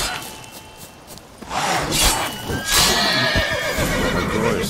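Geralt's horse in The Witcher gives a loud, close neigh with clip-clopping hooves, and the whinny swells over a few seconds after a quiet start.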